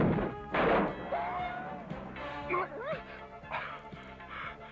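Cartoon dog barking from the G.I. Joe animated series, a few sharp barks and yips mixed with crashing impact effects and a voice or whine, busy and loud throughout.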